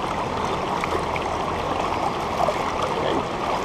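A river stream flows during smallmouth bass fishing, making a steady, even rush of water that fills the scene without a break and with no voices.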